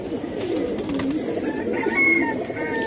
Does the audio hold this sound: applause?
no